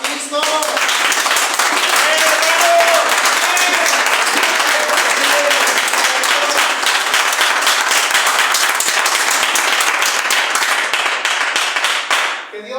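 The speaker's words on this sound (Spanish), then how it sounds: "Dale un fuerte aplauso a Cristo." A church congregation claps strongly after a prayer in a Spanish-language service. The applause is dense and loud and runs steadily for about twelve seconds, with voices and some shouts mixed in.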